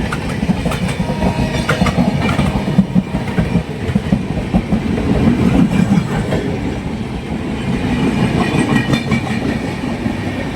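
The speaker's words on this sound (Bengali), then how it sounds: "এটা হচ্ছে হাওড়া থেকে নতুন দিল্লি দুরন্ত এক্সপ্রেস।" Howrah–New Delhi Duronto Express running, a loud, close rumble of rolling wagons with rhythmic clickety-clack wheel beats that stay steady throughout.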